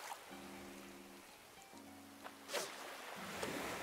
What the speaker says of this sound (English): But I'm enjoying the rain.